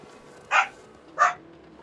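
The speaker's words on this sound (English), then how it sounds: "Sorry if you heard dogs barking there." Two sharp dog barks about a second apart, moderately loud and fairly close, with a quiet background and no talk, from the survival game The Long Dark.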